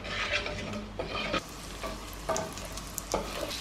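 Ingredients stir-fried fast in melted butter for an Egyptian meat fatteh, a steady close sizzle with stirring scrapes and soft utensil knocks every second or so, no voices.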